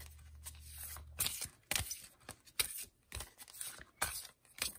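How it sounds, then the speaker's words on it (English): Large oracle cards being shuffled sideways, giving a series of close, crisp riffling and scraping bursts with short pauses between them, with no one talking. "because these cards are so big, I kind of have to shuffle sideways."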